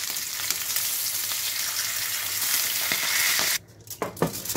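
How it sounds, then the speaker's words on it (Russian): Steady loud sizzling of salmon frying in a hot pan, cutting out briefly near the end with a few faint clicks. "Поставил сковороду и обжариваю."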